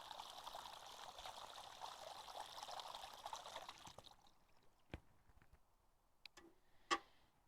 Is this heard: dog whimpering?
no